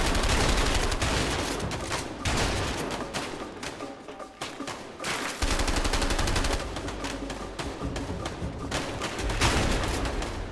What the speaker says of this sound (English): Fine, I'll shoot at him.